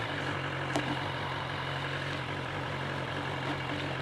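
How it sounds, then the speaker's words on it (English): A BMW S1000XR motorcycle engine idles with a steady low, even rumble, close and moderately loud, after a brief sharp catch at the start. "Engine sort of spits into life, explodes into life."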